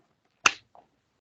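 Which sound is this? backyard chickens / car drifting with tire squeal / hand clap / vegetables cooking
hand clap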